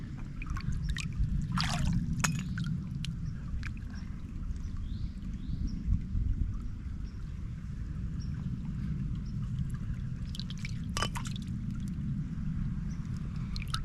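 Water trickling and burbling steadily over the bed of a small creek, a continuous close wash with occasional brighter splashes and sloshes of something moving in the water, and no voices.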